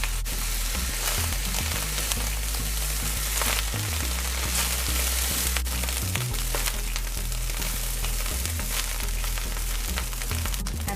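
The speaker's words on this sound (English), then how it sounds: "Now I'll add Chinese cooking wine." Chinese cooking wine hits a hot pan and sizzles loudly and steadily for about eleven seconds, with low pops and clatters of stirring close by, no voices.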